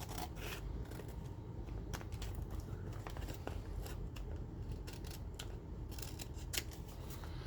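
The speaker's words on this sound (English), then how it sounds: "Let's go and cut off this bottom part here up to the right up to the text." Scissors cut through paper in quick repeated snips with a crisp rhythm, close up and fairly quiet, alone with no talking.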